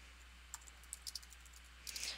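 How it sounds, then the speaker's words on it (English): Keys on a computer keyboard tapped while entering a search for Italian food into the Chrome Omnibox, giving a few faint, scattered clicks in a quiet room, with a brief cluster of quick taps near the end. "I'm going to type in Italian food"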